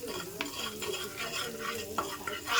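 Stirring and frying in a pan with a little salt added, steady close sizzle broken by scraping strokes of a spoon against the pan, no talk.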